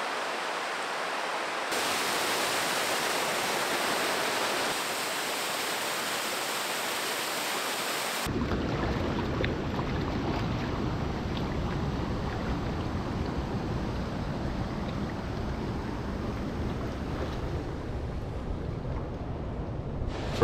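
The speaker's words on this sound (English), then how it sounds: "right in this little pool after the waterfall" Waterfall flowing into a small pool in the Wabakimi wilderness, a steady, dense rushing roar of water that continues unbroken, close and loud with no voices.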